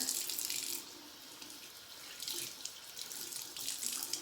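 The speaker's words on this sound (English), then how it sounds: "You can just add water directly to your microfiber cloth" Tap water runs steadily onto a microfiber cloth, close and clear, with the flow shifting and splashing as the cloth is moved under the stream.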